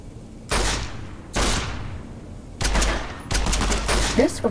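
.44 Magnum revolver shots in Fallout New Vegas's Old World Blues DLC: four heavy, booming blasts a second or so apart, the last two nearly overlapping, each with a rolling tail, loud and close.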